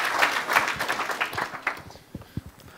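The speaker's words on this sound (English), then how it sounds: "And give yourself a big applause." Audience at the Agile Tour Kaunas 2014 conference applauds in a dense burst of clapping that thins out into a few scattered, fading claps.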